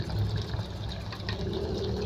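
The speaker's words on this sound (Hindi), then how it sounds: "अभी हम इसमें चावल में पानी डालेंगे।" Water is poured steadily onto rice in a pot to soak it, a continuous close gushing and splashing rush that holds evenly throughout.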